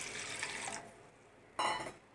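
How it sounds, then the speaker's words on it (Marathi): Water poured over dried bombil fish in a bowl to soak, a steady splashing stream for under a second, then a short, louder second pour after a pause. "मी कसं आता थोडंसं पाणी घालून हे भिजत ठेवते"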